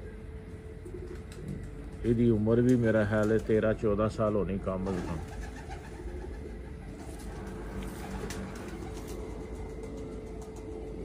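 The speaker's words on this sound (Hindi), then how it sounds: "ए सलारा कबूतर जे।" A Salara pigeon gives a run of deep, rolling coos up close for a few seconds, followed by someone talking with faint traffic behind.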